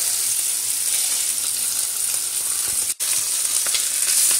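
A steak sears in a pan in a home kitchen, giving a loud, steady, close sizzle with a faint crackle throughout and one brief dropout near the end, with no talking.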